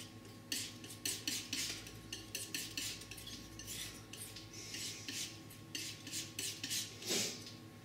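Oil paint, magenta and blue, is mixed on a palette with a painting knife in a series of close, quiet scraping and tapping strokes in an irregular rhythm, with no speech.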